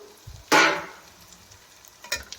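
Cabbage being fried and stirred in a pan for egg bhurji: one loud broadband sizzle burst as it is tossed, fading over about half a second, then quieter pan noise and a second short sizzle near the end; no talking.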